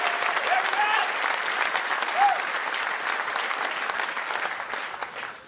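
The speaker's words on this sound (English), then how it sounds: "Give her a round of applause, would you?" Dense, steady applause from a large crowd at a political rally in Lancaster, Pennsylvania, loud and continuous, with a few whistles and scattered voices mixed in before it tapers slightly at the end.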